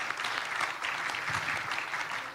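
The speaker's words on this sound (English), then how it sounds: "please join me in a warm round of applause for our incredible panel" An audience at a UN Tourism Commission meeting for East Asia and the Pacific applauds a panel, with steady, dense clapping from a room full of people that holds evenly throughout.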